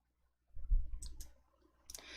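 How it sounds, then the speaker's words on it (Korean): Computer mouse clicked quickly at a desk during Excel work, a soft close double tap followed by a few faint keyboard-like ticks. "더블 클릭"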